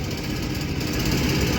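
A passenger boat engine on the Ganges at a ghat in Varanasi drones in a steady, loud, close buzzing chug that holds unbroken throughout.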